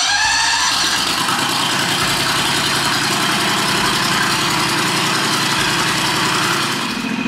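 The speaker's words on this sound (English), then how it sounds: "the tractor's out front. It's warming up." A lawn tractor's small engine with a Mikuni TM34 flat-slide carburetor chugs loudly at a steady idle, its rough, even putter continuing unbroken and close throughout.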